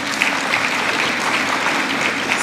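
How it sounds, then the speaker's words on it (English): Steady applause from an audience at a high school honor day, rewarding senior choir students; dense, even clapping fills the whole stretch with a faint murmur of voices underneath. "So a big round of applause for the senior people that are choir."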